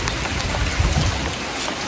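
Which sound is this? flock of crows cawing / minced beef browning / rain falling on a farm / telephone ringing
rain falling on a farm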